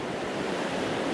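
High river water rushes steadily at Riven Rock, a loud, constant broadband roar that fills the moment with no pauses and no voices.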